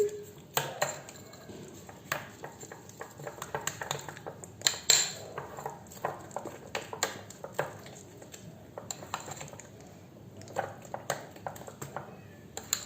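A spoon mixes jaggery ice cream in a bowl, producing uneven clinks and scrapes against the bowl, with a few louder taps amid quiet room noise.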